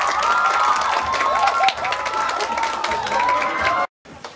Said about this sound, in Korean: 많은 박수로.